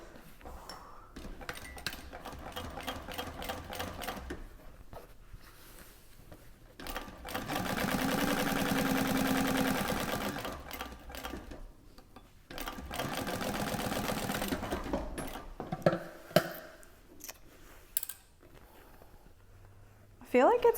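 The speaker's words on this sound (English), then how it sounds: "Got a little carried away with the top stitching there." A Thor GE 0617C sewing machine runs top stitching in two sustained bursts, a close mechanical whir broken by short pauses and small handling clicks, with a voice speaking briefly around it.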